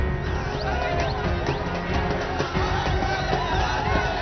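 A large crowd of Maratha reservation protesters gathers in front of CSMT station in Mumbai, producing a dense, continuous roar of many voices with shouts and scattered cheering and clatter rising above it.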